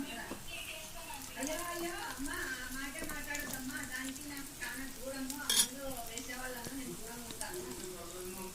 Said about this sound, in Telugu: ఆయిల్ కానీ బాగా కాగింది. ఇందులోకి ఎగ్ మిక్స్ వేసేసుకున్నాం.